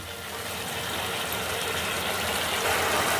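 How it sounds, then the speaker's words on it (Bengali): Spice mixture boiling in chicken stock, a dense, continuous bubbling roar that builds slightly louder over a few seconds, close up with no voices. "এই চিকেন স্টকের সঙ্গে মশলাটা আমি মিনিট 7 সময় ধরে ভালো করে ফুটিয়ে নেব"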